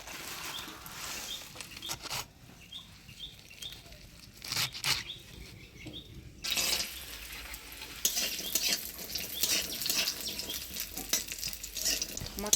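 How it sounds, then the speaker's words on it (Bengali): Split-pea lentil dumplings (bori) fry in hot oil in a pan, giving a steady close sizzle with occasional stirring scrapes and crackles, growing louder and busier toward the end. "মটর ডালের বড়িটা লাল করে ভেজে নিলাম"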